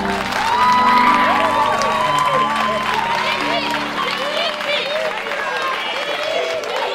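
A school audience applauding a student poet: dense, sustained clapping with cheers and whoops, loudest early and then easing slightly while staying steady to the end.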